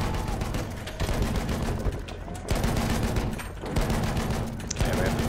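Suppressing gunfire in a Battlefield 1 firefight: dense, overlapping rifle and machine gun shots crack continuously, with a few brief lulls between heavy volleys.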